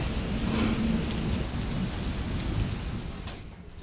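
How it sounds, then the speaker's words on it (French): Steady rain falls outdoors on a market outing, a dense, even patter that fills the whole stretch and fades slightly toward the end. No voices are heard. "Il pleut."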